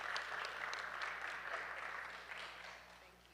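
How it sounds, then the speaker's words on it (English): Audience applause at a blockchain summit session, a steady moderate wash of clapping for about three seconds that gradually fades toward the end. "Give them a round of applause."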